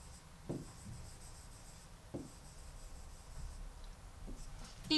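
A teacher writes Russian verbs in a distance lesson, heard as soft scratchy writing strokes with a few distinct taps of the pen or chalk, faint and close in a quiet room.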